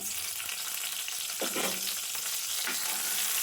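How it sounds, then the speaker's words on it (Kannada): Green chillies fry in two to three tablespoons of hot oil in a pan, giving a continuous bright sizzle with a couple of brief stirring scrapes and no talk. "ಇದು ಸ್ವಲ್ಪ ಕಾಯ್ದ ತಕ್ಷಣ ನಾನು ಹಸಿರು ಮೆಣಸಿನ್ಕಾಯಿ ಹಾಕೋತೀನಿ"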